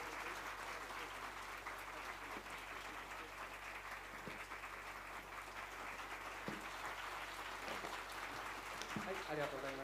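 Sustained applause from an audience at a live anniversary event fills the space, a dense, even wash of clapping that runs steadily from start to finish.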